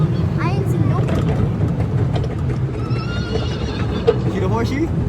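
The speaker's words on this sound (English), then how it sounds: "See the horsey? The horsey, bye." Horse neighing at a LEGOLAND Florida attraction, a whinny rising near the start amid background chatter and low engine rumble, with other short calls and bright chirpy sounds later; people talk throughout.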